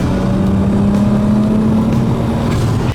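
A turbocharged car with a massive exhaust idles close by, giving a loud, steady, droning engine note with a constant low hum and no pauses.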